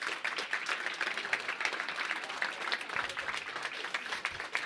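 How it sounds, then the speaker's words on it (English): Audience applause at an esports championship awards ceremony fills the space with dense, steady clapping from a sizeable crowd, continuous and moderately loud throughout. "round of applause for you guys for even getting here"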